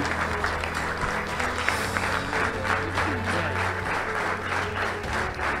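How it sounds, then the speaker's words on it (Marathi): Sustained applause from a standing audience at a speech event, dense and steady clapping throughout with a faint crowd murmur beneath. "उभे राहून टाळ्या वाजवा"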